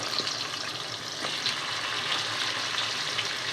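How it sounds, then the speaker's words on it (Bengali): Chicken pieces and potatoes hit a pan of already-fried onion in a home kitchen, setting off a steady, close sizzling hiss that holds evenly for a few seconds with a faint clink or two. "এখন আমি মুরগি আর আলুটা একসাথেই দিয়ে দিব"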